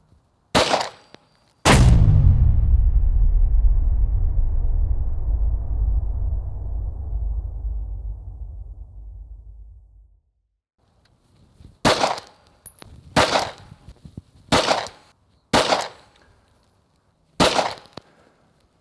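A Taurus Curve pistol fires G2 Research .380 ACP rounds: one loud sharp shot with a long ringing decay, then five more crisp reports in quick irregular succession, near and alone without talk.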